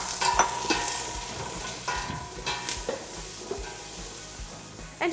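Onions sizzle steadily in a pot for collard greens while a spoon stirs and scrapes now and then, a soft continuous frying hiss with occasional taps, close up and without speech.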